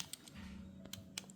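Light, hollow taps on the plastic body of a Hot Wheels Corvette Stingray toy car, a handful of irregular clicks close by over a steady low hum.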